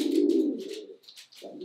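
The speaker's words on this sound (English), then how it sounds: "The cooing can also be pretty constant," Soft, low pigeon cooing up close, a long throaty coo followed by a shorter one after a brief pause, with light rustling above it.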